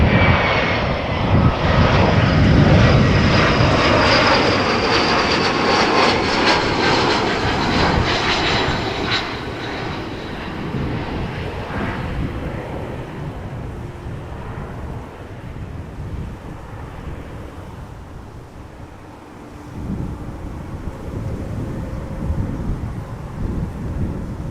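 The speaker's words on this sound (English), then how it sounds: "Air France Embraer 117. Air France op, arriving from Marseille." An Air France Embraer jet arriving at Amsterdam Schiphol from Marseille roars past loudly and then fades into a lingering rumble, with wind buffeting the microphone and no voices.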